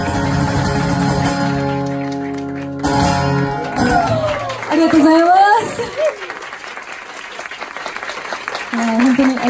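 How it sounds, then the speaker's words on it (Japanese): A concert audience at a live show applauds after the music fades, the clapping swelling under lingering sustained tones and a voice speaking, then continuing as a broad wash of crowd applause. "楽しんでくださった皆さん自身にも拍手をお願いします"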